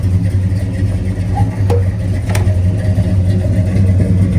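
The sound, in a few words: 1966 Pontiac GTO engine through dual exhaust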